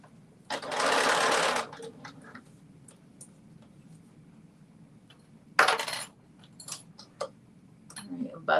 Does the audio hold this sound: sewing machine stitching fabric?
yes